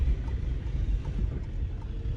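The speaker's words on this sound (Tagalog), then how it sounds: "Mahangin masyado." Steady low roar of strong wind buffeting the microphone at Nordkapp, Norway, in thick cloud, rumbling continuously with no voices.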